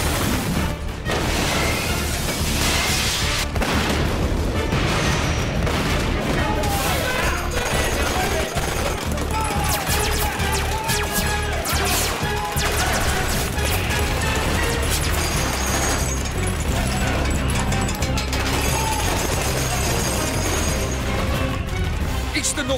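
The Valiant airship firing its weapons, with explosions, in a sci-fi battle scene: dense continuous volleys, blasts and crashes under a loud orchestral score, with brief voices in the mix.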